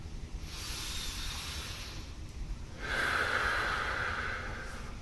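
Deep Wim Hof method breathing cycles: close, forceful inhales and exhales through the nose and mouth, two long breathy hisses separated by a short pause.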